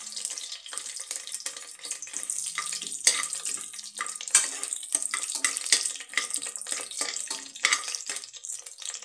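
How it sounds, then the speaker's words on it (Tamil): Biryani masala frying and being stirred in hot groundnut oil for country chicken biryani, a steady crackling sizzle with frequent bubbling pops and occasional scraping stirs, close and continuous with no talk. "போட்டுட்டு அது அப்படியே ஃப்ரை ஆகிட்டுருக்கு."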